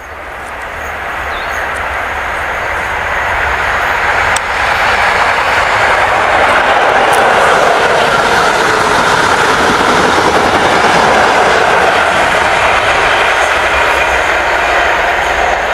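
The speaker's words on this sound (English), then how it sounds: "we got a passenger train coming through" A passenger train passing through a station builds to a loud, steady rumble that rises over the first few seconds and then holds close by with a continuous roar.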